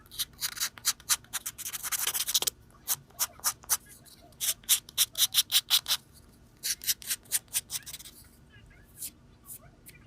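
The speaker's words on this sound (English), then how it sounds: "We're just going to sand down the edges a little bit, just to make it even around the edge." Quick, rhythmic rasping strokes sand down the edges of a chipboard ornament, close and crisp, with a short continuous rub followed by bursts of scratchy back-and-forth passes.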